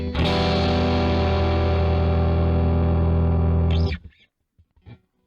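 Distorted electric guitar chord struck with hybrid picking through effects, ringing loud and sustained for about four seconds before being cut off, followed by a couple of faint string noises.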